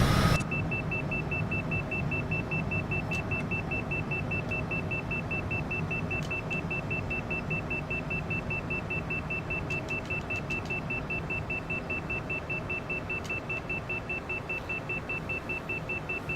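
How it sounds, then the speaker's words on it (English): Cockpit warning tone in a Cessna Citation CJ4 flight simulator during a night flight, a faint, sparse beep repeating at irregular intervals over a steady low engine hum, with no talking. "This beeping sound will go away any moment"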